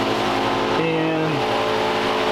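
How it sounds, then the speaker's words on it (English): A Chevrolet Vega on a roller dyno in high gear, its engine holding a steady loud drone with a pitch shift partway through, over a constant roar of rollers and exhaust. "So this would be a regular power pull, high gear, 50 to 120."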